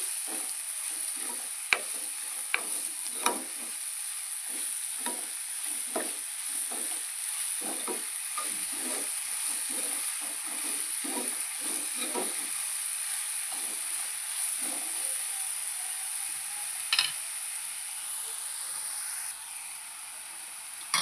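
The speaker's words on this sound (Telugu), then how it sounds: "ఇది ఆయిల్ వేడెక్కిందండి, ఉల్లిపాయ ముక్కలు వేసేసుకున్నాం. బాగా ఫ్రై అవ్వాలి." Sliced onions frying in hot oil in a pan for a chicken curry, a steady sizzle with scattered stirring scrapes and clicks, close and moderately loud, no talk.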